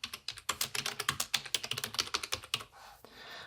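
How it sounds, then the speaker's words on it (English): Quick, irregular keystrokes on a computer keyboard, a close burst of clicky taps for about two and a half seconds before trailing off into faint room hiss. "You have option now to type your text."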